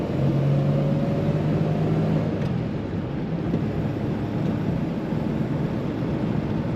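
A 1936 Packard 120-B Sport Coupe engine runs while the two-door car is driven. It makes a steady, smooth low rumble with a faint hum and a constant broad road noise throughout.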